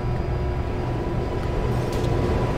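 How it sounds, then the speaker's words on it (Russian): A train departing in Garry's Mod, a steady low rumble of rolling wheels and engine noise heard close and alone, with faint higher clanks. "Поезд начинает поездку."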